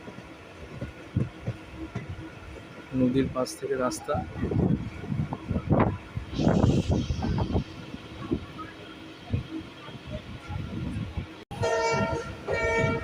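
A local train running from Majherhat to BBD Bag rumbles and clatters along the track, with people talking over the rolling noise and a bright, horn-like tone sounding near the end.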